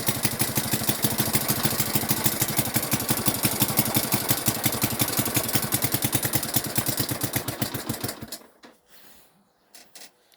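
A Delta moped's small engine runs with a steady, rapid, loud putter for about eight seconds, then cuts out and leaves a few faint knocks.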